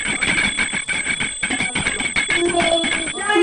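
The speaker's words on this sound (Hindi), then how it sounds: "घंटी भी बजा रहा है" A metal hand bell rung continuously during a Hindu aarti prayer at a Karva Chauth ritual at home, with a bright, rapid, repeated ringing and some faint voices or singing mixed in.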